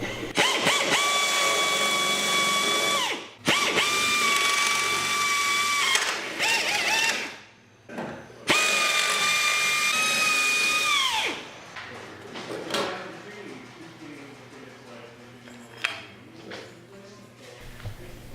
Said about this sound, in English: I had to drill the rivets out